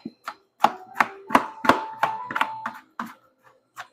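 Knife chopping food on a board before blending it for gelato, about a dozen crisp close taps in a quick uneven rhythm, trailing off into sparse cuts.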